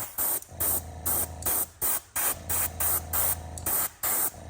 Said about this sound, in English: when we spray the red, we're going to spray it from the other direction and let that overspray come down